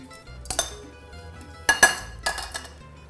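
Arugula being tossed with truffle oil, salt and cracked pepper in a bowl, giving a few distinct clinks and scrapes of utensils against dishware over a low background hum, no talking.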